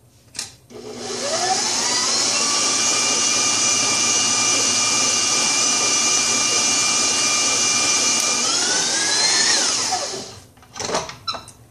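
An electric mixer whirs steadily through madeleine cookie dough, spinning up sharply, holding a loud, even high-pitched drone for about nine seconds, then winding down, with a few knocks at the end.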